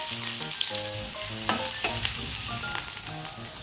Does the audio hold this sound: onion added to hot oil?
yes